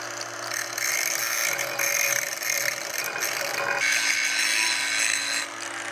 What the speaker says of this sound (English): I'm going to take just a minute and grind some of this spatter